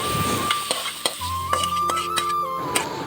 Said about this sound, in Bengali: এখন কেটে রাখা পটল আলুগুলো হলুদ এবং লবণ দিয়ে হালকা করে ভেজে নেব।